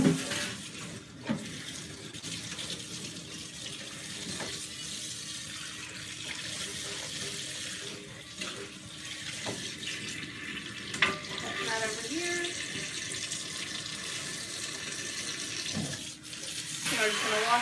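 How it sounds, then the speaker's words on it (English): Water drains out of a kitchen sink with a steady, soft gurgling trickle, punctuated by occasional clinks and splashes; fairly quiet and close throughout. "So we'll start letting this water drain out."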